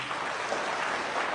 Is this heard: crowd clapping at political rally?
yes